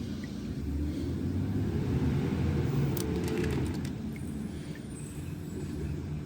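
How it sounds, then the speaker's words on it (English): Garbage truck working outside in the background, a steady low engine rumble with diesel drone running throughout and a brief hiss of air brakes, moderately distant and continuous. "You can hear the garbage man in the background."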